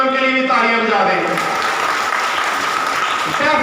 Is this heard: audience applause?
yes